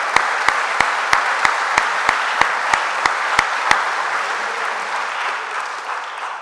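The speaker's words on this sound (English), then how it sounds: "let's give them a round of applause for being here to celebrate today" Sustained applause from an audience at a college athletic hall of fame induction ceremony, a dense wash of clapping with a steady rhythmic pulse from nearby hands, fading slightly toward the end.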